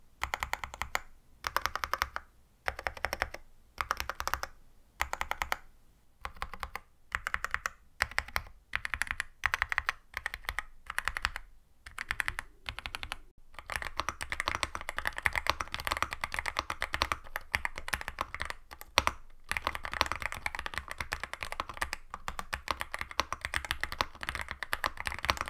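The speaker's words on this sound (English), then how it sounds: "here is a full-on typing test with the AL66." Steady typing on a Yunzii AL66 mechanical keyboard fitted with Milk switches, close and clear: quick bursts of deep, thocky keystrokes broken by short pauses, then a faster continuous run, with no talking.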